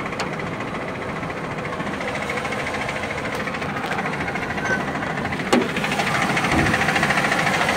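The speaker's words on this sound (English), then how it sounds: "A little bit of upper engine noise." An idling car engine with upper engine noise hums steadily with a light ticking clatter on top, one brief sharp click near the end, at a car auction.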